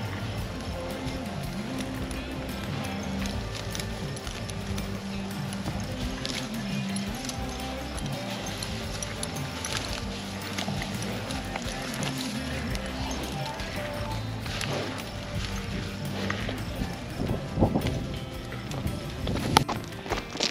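Dairy cows shuffle and clop along on the move, their footsteps a steady, scattered trampling with occasional louder thuds toward the end, under a background murmur.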